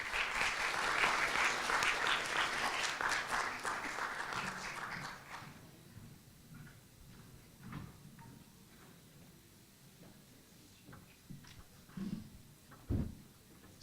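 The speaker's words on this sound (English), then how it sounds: "A big round of applause for Dr." Audience applause welcoming a speaker at an evening conference session, loud and dense for about five seconds before thinning to scattered claps and small knocks, with a few late isolated claps.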